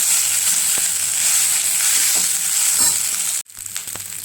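A spatula stirs chitranna, South Indian lemon rice, in a pan, producing a continuous soft sizzle with a few light knocks. A brief near-silence comes just before the end, then gentle scraping resumes.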